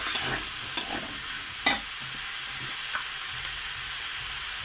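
Potatoes and beans cook in spices in a pan, giving a constant low sizzle with a few sharp scrapes and clacks from stirring.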